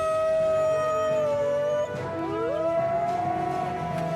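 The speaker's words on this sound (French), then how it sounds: "Vous avez entendu ce cri? C'est Wanji qui appelle la meute." A cartoon wolf howls to call its pack: one long, steady howl breaks off, then a second slides upward and holds, clear and fairly loud.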